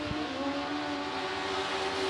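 Modified race cars run on the Volusia dirt track, giving a sustained engine roar and whine at a distance, with no voices.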